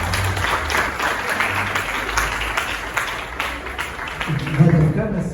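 A church congregation applauding during a baptism service, a steady crowd of hand claps heard over a low rumble, with a voice speaking and a few musical notes near the end.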